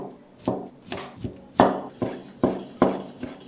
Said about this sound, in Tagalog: Hiniwa ko lang ng maliliit.